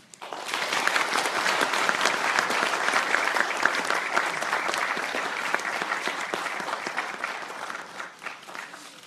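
An audience at a forum on chaebol reform claps loudly and steadily after a keynote speech, the dense applause holding for several seconds before tapering off near the end.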